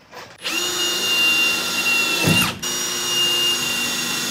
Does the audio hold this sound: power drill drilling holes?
yes